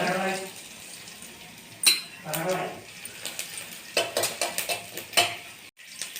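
Vadagam crackles in hot oil for tempering while a spoon clinks and scrapes around the pan, with a steady sizzle beneath irregular metallic taps and stirring knocks close by.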